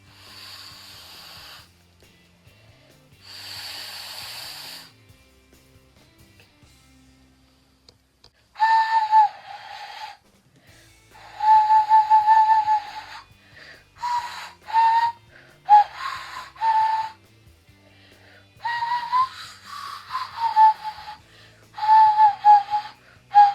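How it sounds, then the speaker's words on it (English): Nose flute blown through the nostril, giving breathy, airy whistled tones in separate bursts, first soft hissing puffs and then clearer, louder wavering notes with short pauses between them. "It's like you shove it up your nose and open your mouth and blow out of your nose."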